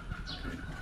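A person imitates a bird call, a short, soft cooing whistle heard briefly and quietly.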